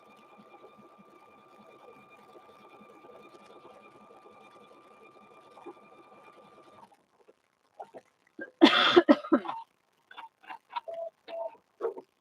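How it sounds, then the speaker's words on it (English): A sewing machine stitches a quilted handbag with a rapid steady whirring hum for about seven seconds, then stops, followed by scattered soft clicks and handling noises. "we're going to go ahead and stitch. You'll see, we're going to stitch right over that transfer."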